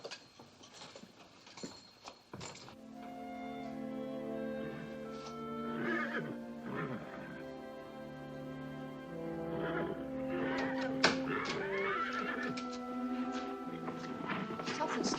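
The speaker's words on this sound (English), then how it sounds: "Something's scaring the horses." Horses in a classic Western film scene whinny and neigh repeatedly while hooves clip-clop, mixed with low movement and faint voices under a film soundtrack.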